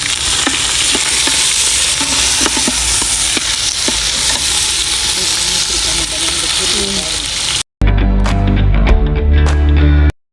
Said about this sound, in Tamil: வெங்காயம் போடுறோம்.